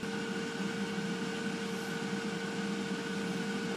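Leclerc Elsay 6L air fryer running at 200 degrees, a steady quiet fan whir with a faint electrical hum, unchanging and alone throughout.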